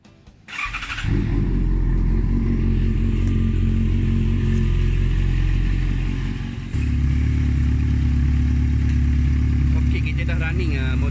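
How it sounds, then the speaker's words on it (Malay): A Yamaha XJ6 motorcycle engine idles after an oil change, starting with a brief crank and then holding a loud, steady, close-up rumble with a slight dip in the middle and faint mechanical ticking. "Running motor ni selepas kita top up minyak yang baru"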